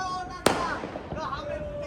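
A single sharp firecracker bang cracks out in a Surat street celebration after an India win. Voices and background chatter carry on around it.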